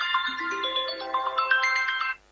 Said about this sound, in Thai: กดรับโทรศัพท์ด้วยฮัลโหลแล้ววะ